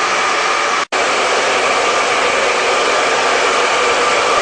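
A hair dryer blows on a hairpiece, a loud, steady close-up roar of rushing air with one very brief cutout near the start and no talking.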